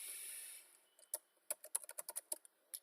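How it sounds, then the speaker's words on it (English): Someone types a name on a computer keyboard in a quiet room, a quick uneven run of about a dozen sharp key clicks that follows a fading background hiss. "I am typing my name"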